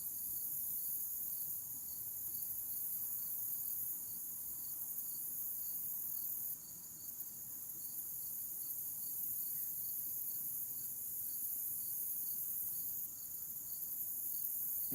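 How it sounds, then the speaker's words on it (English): Crickets chirp steadily outdoors at dusk beside a fishing spot, a continuous high pulsing trill that runs unbroken over a quiet background with no voices. "You guys hear the crickets and stuff?"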